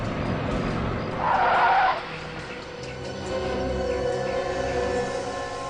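A truck pulls up and stops with a short, loud burst of skidding tyres, then its engine idles on steadily nearby.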